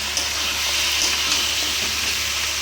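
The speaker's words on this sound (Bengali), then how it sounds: "তা আপাতত আমি এটা কষিয়ে নিই ভালো করে" Masala for a fish-head muri ghonto sautés in a pan, a loud, steady, close hiss of frying with faint stirring and no voices.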